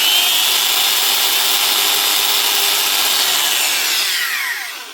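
An old Bosch GWS 6-115 angle grinder, freshly repaired with new gearbox grease, runs at a steady high whine close by, then begins spinning down at the end.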